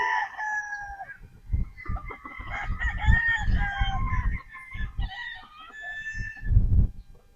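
A straight comb gamefowl rooster crossed with yellow legged hatch sweater, dark in colour, crows loudly and nearby in several drawn-out calls, with clucks and other fowl noises around it.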